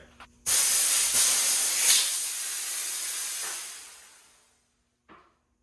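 Car airbag suspension on a rat rod custom build vents air in a loud, sudden hiss that holds steady for about four seconds and then tapers off, followed by a short puff.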